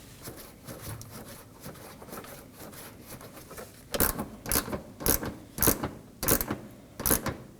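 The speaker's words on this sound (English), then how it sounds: "we can reinstall our corner 10mm bolt." Reinstalling the corner 10mm bolt on the fender of a 2015-2023 Nissan Maxima, first soft fumbling, then a series of about seven crisp ratchet clicks at an even pace, close and distinct.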